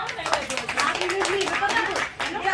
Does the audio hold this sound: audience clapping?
yes